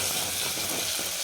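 Mutton masala sautéing in a pan gives a steady, soft sizzle with faint stirring, close and alone, no voices.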